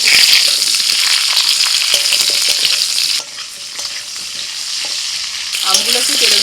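Mango pieces hit hot oil tempered with dried red chilli and five-spice, a loud continuous sizzle with stirring that eases briefly midway, then flares up again near the end.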